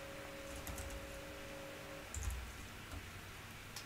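Someone types on a computer keyboard in a quiet room: a few sparse, faint keystroke clicks sound against a low steady hiss, with no talking.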